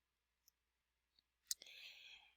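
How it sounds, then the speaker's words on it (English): A computer mouse gives a couple of faint isolated clicks, then one sharper click followed by a brief soft rustle, close and quiet in an otherwise silent room. "I'm going to click that,"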